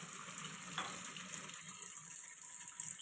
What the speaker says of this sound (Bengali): এবার আমলকিগুলোকে আমি ভালোভাবে ধুয়ে নিই